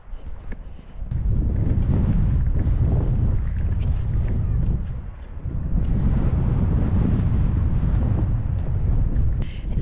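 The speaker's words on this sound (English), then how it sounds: "It's so windy." Strong wind roars and buffets the microphone on the Jurassic Coast in Dorset. The rumble is loud and continuous in two long gusts, with a brief lull midway.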